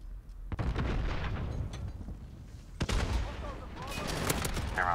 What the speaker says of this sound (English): I heard the shotgun somewhere, and I don't know where I heard it, but I know I heard it.